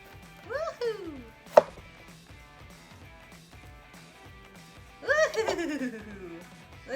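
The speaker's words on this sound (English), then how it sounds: "So you guys can judge my pepper cutting techniques" A knife chops a bell pepper on a cutting board in a home kitchen, with a sharp knock near the start, soft scattered taps, and bursts of laughter and voices over it.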